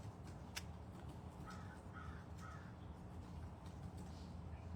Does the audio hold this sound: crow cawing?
yes